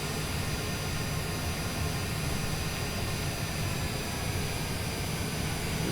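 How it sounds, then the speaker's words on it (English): An airplane taxis along Taxiway Alpha toward runway 23 left with a steady, loud, broadband engine roar and a high whine that hold unchanged throughout, heard from inside the aircraft. "Just taxiing on down here in Taxiway Alpha to the end of runway 23 left"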